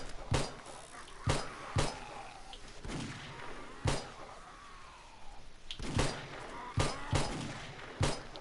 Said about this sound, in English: Oh, that was a warning shot.